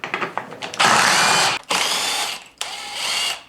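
A ratchet spins out Torx 40 screws from plastic trim on a Polaris RZR side-by-side in three close bursts of rapid clicking, each lasting under a second, separated by brief pauses.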